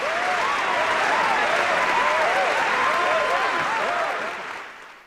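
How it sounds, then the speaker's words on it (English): An audience at a live show breaks into sustained applause, full and even, with whoops and cheering voices rising over the clapping before it fades out at the end. "now, how about the applause?"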